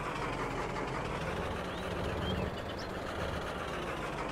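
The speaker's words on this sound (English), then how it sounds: "Look at that exhaust just rattling" Pickup truck idling in Farming Simulator 22, its exhaust rattling in a steady, continuous low drone that stays even and moderately loud throughout, with no voices.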